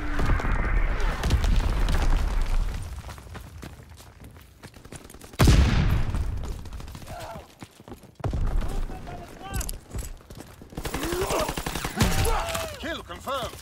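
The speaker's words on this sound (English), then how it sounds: "Enemy mortar fire incoming!" Incoming enemy mortar fire in a war video game, with a loud blast near the middle standing out amid ongoing gunfire and rumbling battle noise, while voices call out over the fighting.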